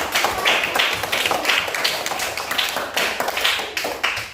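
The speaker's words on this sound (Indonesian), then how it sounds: "Iya, tepuk tangan." A classroom of students claps together in a steady, rhythmic pattern of repeated bursts, loud and close, with no talking over it.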